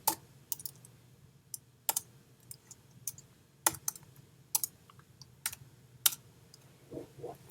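Sparse computer keyboard keystrokes sound as sharp, separate clicks spaced irregularly over a soft low hum, quiet and close, with a few quicker taps near the end.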